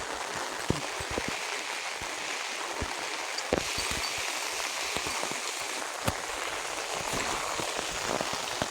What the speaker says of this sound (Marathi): पाऊस परत चालू झाला आहे आता